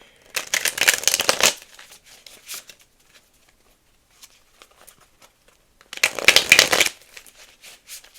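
Angel oracle cards are shuffled in two separate bursts of rapid riffling, close and crisp, with a quiet pause of faint handling sounds between them.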